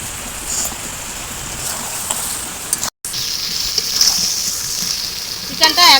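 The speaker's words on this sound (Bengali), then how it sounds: "চিকেনটা একদম ভালো করে পুরো কষানো হয়ে গেছে।" Chicken sautéing for a curry gives a steady close-up sizzle that runs without a break, with a short dropout partway through and a few louder crackles near the end.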